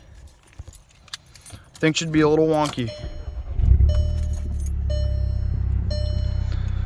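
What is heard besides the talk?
starting a VW GTI DSG car with keys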